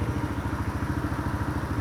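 A motorcycle with a quiet custom exhaust, built to sound smooth and road-legal, idles steadily up close, its low even pulsing continuous and alone.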